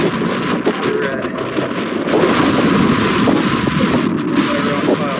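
Wind blowing at about 12 miles an hour on an open hunting range during a pronghorn hunt, buffeting the microphone in a loud, steady rush with no clear pauses.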